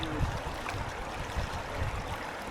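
River water flowing at a crossing of a swollen stream, a continuous rushing wash with low splashy surges, fairly faint and steady over a short stretch, with no voices.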